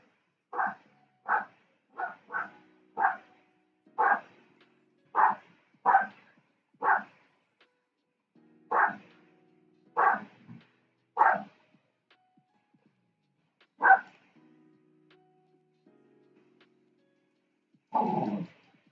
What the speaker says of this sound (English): That's Nala barking in the background there.